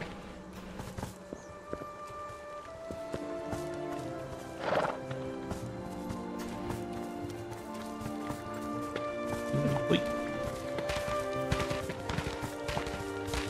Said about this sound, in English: Oh, that horse.